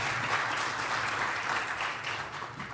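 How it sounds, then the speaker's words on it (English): Applause from the audience at a metro mayors' lunch in northwest Oklahoma City, a steady, even patter of many hands clapping throughout, moderately loud and fading slightly near the end. "So, yeah, Jill wants to applaud that,"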